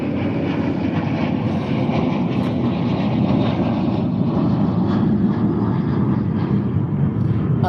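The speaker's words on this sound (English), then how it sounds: "ooh, airplane." An airplane flies overhead, a steady, broad, rumbling roar that stays loud and even throughout with no voices.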